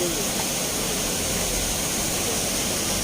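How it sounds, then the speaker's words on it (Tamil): Floodwater from the swollen Palar river rushes over a causeway near a temple, a dense, loud, unbroken roar of fast-moving water filling the whole clip. "கொஞ்சம் கொஞ்சமாக தண்ணியோட ஸ்பீடு அதிகமாகிடுச்சு."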